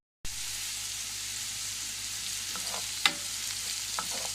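Zucchini frying in oil in a pan, a steady close hiss of sizzling with a few faint clinks of a utensil partway through.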